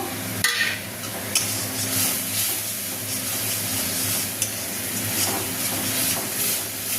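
Tomato and spices frying in a pan, giving a dense, crackling sizzle with spitting bursts and a few sharp clinks of a utensil, continuous and close without any talking.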